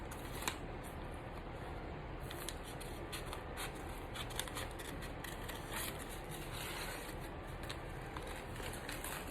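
Scissors cutting a heart shape out of folded paper for a farmhouse Valentine craft, giving close, steady, rustling snips that run continuously with no talking.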